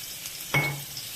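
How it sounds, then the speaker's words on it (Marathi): Crushed garlic dropped into hot oil that already holds a pinch of asafoetida, making a sudden sharp sizzle that flares up and quickly dies back, heard alone. "तेल तापले आपण आता त्यात कुटलेला लसूण घालूया"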